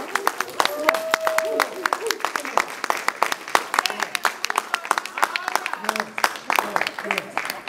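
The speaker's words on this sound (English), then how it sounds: "let's stand up and give them a nice round of applause" A high school assembly audience claps for honorees, an uneven spread of individual claps with voices talking and calling out over it throughout.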